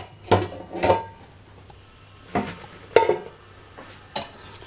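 Metal pressure cooker lid being handled and opened after the steam has been released from tapioca cooking, several sharp metallic clanks and scrapes in short bursts separated by quiet pauses.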